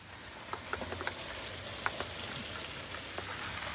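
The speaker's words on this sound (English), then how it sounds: "Of course, it's still raining again." Rain falls outdoors during repair work on an MCI bus, a steady soft patter of drops with scattered louder ticks, fairly quiet and continuous, with no voices.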